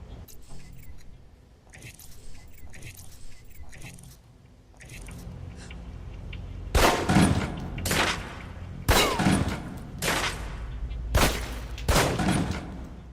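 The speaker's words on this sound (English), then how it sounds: "Equip the pistol, then aim down range and take some shots at the target." Pistol shots ring out at a firing-range target in the video game Alpha Protocol, several sharp, loud bangs spaced irregularly in the second half after quieter clicks and clatter, with a voice talking over parts of it.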